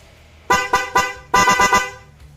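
A motorcycle horn honks in a quick series of short, loud beeps, followed by a longer sputtering burst of rapid toots, close by.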